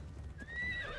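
A horse whinnies in a rising, drawn-out call over a low rumble of hoofbeats in Assassin's Creed Shadows, close and fairly loud, with no talking.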